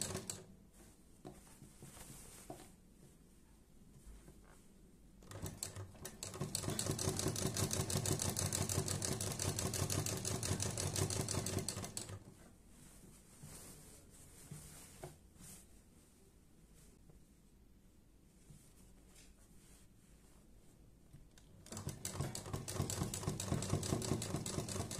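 Bursts of a sewing machine stitching close along a fabric edge, each run a rapid, even mechanical chatter lasting several seconds, separated by quiet pauses.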